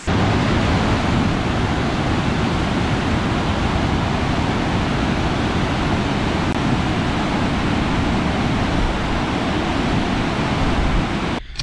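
A steady, loud rush of Cargill Falls in Killingly, Connecticut, fills the whole stretch, a dense roar without breaks and no voices.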